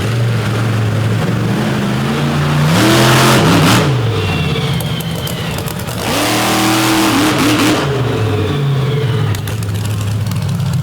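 A big bull-nosed monster truck revs hard as it pulls a sky wheelie at an arena show. The loud engine roars and surges in two big swells, with the pitch sweeping up and down, over constant crowd and arena noise.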